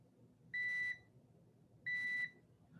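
A multimeter beeps twice on a continuity test with its probe pins touched together, each beep a steady high tone lasting about half a second, heard over a low room hum.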